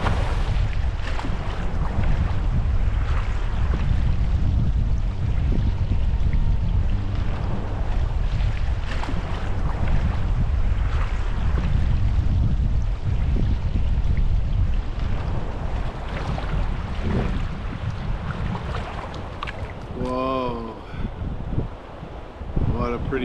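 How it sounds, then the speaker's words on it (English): River standing waves churn and roar around a paddler on a solo Yukon wilderness trip, a loud, continuous rush of water mixed with wind buffeting the microphone throughout. "Tricky paddling moments of the trip, but some of the biggest standing waves yet."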